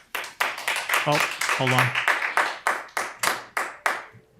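Audience at a Utah County Commission public meeting clapping in a steady run of sharp, evenly spaced claps, fairly close, with a brief spoken remark partway through.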